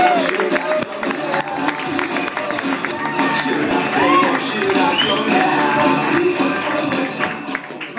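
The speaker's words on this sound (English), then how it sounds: "Do some stamping your feet. Clap your hands. Scream and shout." A lively comedy-club crowd greets a performer with clapping, cheering, shouts and stamping feet, a dense continuous roar with scattered whoops and voices rising above it throughout.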